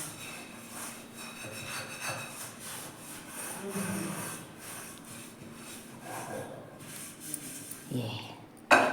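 A broken wooden churner works butter by hand, giving a steady rubbing, swishing rhythm that runs throughout at moderate volume, with a few sharper knocks near the end.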